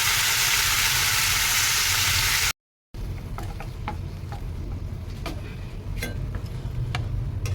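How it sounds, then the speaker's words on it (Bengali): Strained mustard paste made from ground white and black mustard seed and water goes into a hot pan for a mustard hilsa dish, with a loud sizzle at first, a brief cutout, then quieter bubbling with light ticks. "এই সর্ষে আমি বেটে জলে গুলে ছেঁকে নিয়েছি, যাতে তেতো না লাগে"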